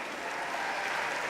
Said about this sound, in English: Please give another round of applause to the iconic Miss Dionne Warwick.